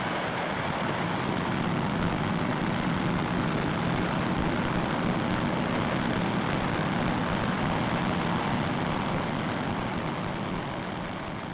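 An AJ-26 rocket engine roars through a static test firing for the Taurus II at 108% of baseline thrust, a steady, broadband roar with no breaks, sustained throughout at moderate level.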